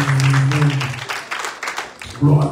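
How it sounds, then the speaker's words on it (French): A church congregation claps together during a Sunday worship service, a dense rhythmic patter of many hands under a voice that speaks and sustains tones at the start and end. "Frappez bien, applaudissez le Seigneur pour ça."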